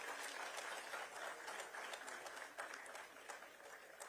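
Applause at a school partnership event in Dehradun, a dense, distant-sounding wash of many hands clapping at moderate level, steady for about four seconds.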